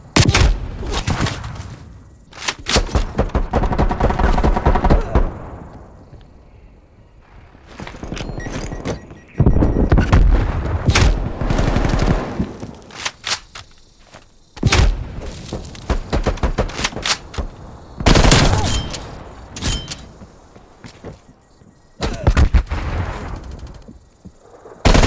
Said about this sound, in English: Multiple hostile sentry turrets working your AO.